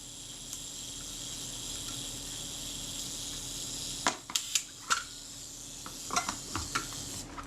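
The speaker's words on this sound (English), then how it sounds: "That was the self-timer you could hear running down because I'd left it set." The clockwork self-timer of a Voigtländer Vito B camera runs down with a thin, steady buzzing whirr, followed by a string of small mechanical clicks and taps close by.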